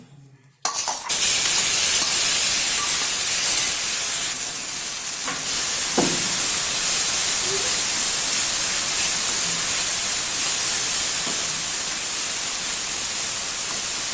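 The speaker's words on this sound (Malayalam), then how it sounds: "നെയ്യ് ചൂടായി വരുമ്പോൾ നേരത്തെ മിക്സ് ചെയ്ത് വെച്ച പഴം അതിലേക്ക് ചേർത്ത് കൊടുക്കാം." Mixed banana drops into hot ghee in a pan and sizzles loudly and continuously, a dense frying hiss with a few faint stirring taps.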